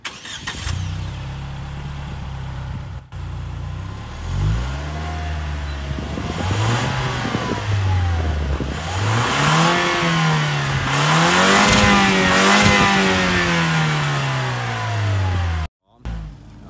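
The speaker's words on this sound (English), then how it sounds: "I bet this exhaust might sound pretty decent" A Lexus IS300 F Sport starts and idles outside, then its exhaust rises and falls through several loud revs in a wavering pattern before cutting off abruptly near the end.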